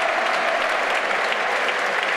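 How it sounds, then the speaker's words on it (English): Football stadium crowd gives a standing ovation to an Irish international player leaving the pitch, a dense, steady wash of clapping from many hands at a distance. "Callum O'Dowda is applauded off the pitch. A standing ovation for the Irish international."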